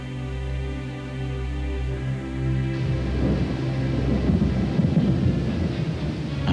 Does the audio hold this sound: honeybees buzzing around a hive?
no